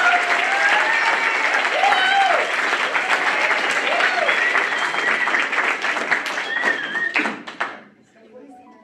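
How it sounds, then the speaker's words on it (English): Wedding guests applaud steadily for several seconds, a dense sustained patter of many hands, with some voices and cheers mixed in, before the clapping tapers off and fades near the end. "Can I have a round of applause for her?"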